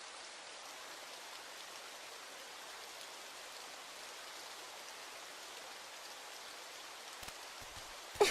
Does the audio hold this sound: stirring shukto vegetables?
no